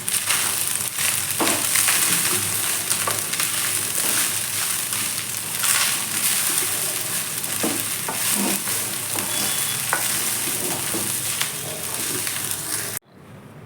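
Whole spices, coriander seeds, cumin and peppercorns with fenugreek powder and salt, are stirred in a hot pan, giving a steady sizzle with repeated scraping and crunching strokes of the spoon for several seconds before stopping abruptly.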